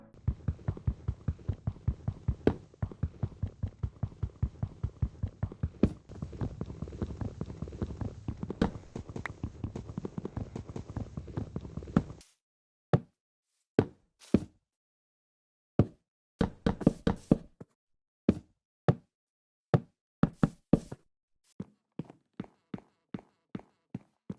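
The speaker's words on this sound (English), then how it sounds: "the third unique sound comes from cherry wood" Cherry wood blocks in Minecraft being placed and broken: a long run of rapid, steady knocking taps, then sparse, crisp, hollow clicks spaced apart with silence between them.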